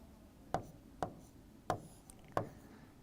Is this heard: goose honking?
no